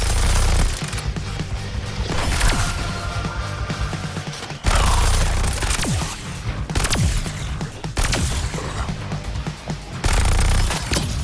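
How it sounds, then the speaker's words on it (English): Heavy artillery blasts and rapid gunfire in the video game Suicide Squad: Kill the Justice League, loud and dense, with repeated booming impacts and continuous crackling shots filling the scene without pause. "Artillery! Taking fire from above!"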